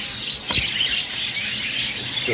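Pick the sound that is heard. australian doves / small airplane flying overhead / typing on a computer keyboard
australian doves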